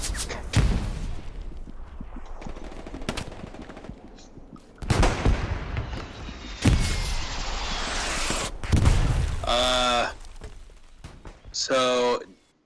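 Artillery and gunfire in the WWII shooter game Hell Let Loose, with sharp broadband blasts and booming impacts spread across the clip, loud and close, mixed with bursts of shouting.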